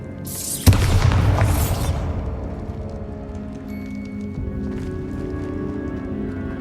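A Bombarda spell detonates in Hogwarts Legacy with one sharp, loud blast that rumbles and crackles for about a second, then settles into quieter ambient game noise and faint distant thuds.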